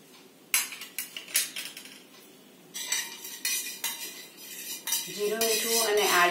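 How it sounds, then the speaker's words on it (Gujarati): A metal spoon stirs lemon sherbet with cumin, salt and grated ginger in a glass or pot, producing loud repeated clinks and scraping against the vessel, with a voice speaking over the final second. "જીરું મીઠું અને આદુ એડ કર્યા પછી આપણે થોડું પાછું શરબતને હલાવીશું"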